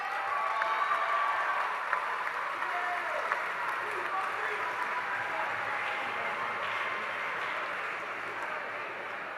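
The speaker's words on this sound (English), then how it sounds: "Let's give the graduates a big round of applause." A graduation ceremony audience applauding the graduates, with sustained dense clapping from a large crowd filling the hall at steady loudness, a few louder claps and a faint cheer standing out.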